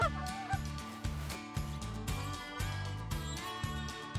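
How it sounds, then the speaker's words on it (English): A flock of about 25 migrating geese, Giant Rochester geese, honking overhead during a goose hunt, repeated honks in a steady rhythm over a loud tonal backdrop that may include hunters' goose calls. "You look straight up and there's probably about 25 or so geese."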